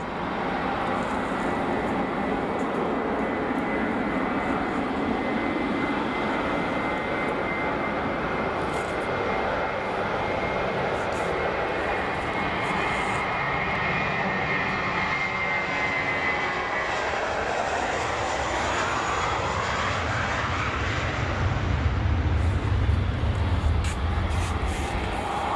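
Jet aircraft engines roar at Frankfurt Airport, a broad sustained rumble heard from a distance that grows louder and deeper toward the end as a heavy airliner draws nearer.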